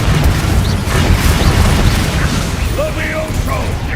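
A Confringo blasting spell bursts in Hogwarts Legacy combat, a loud booming roar that holds for a few seconds under battle noise, with a brief chirping magical flourish near the end.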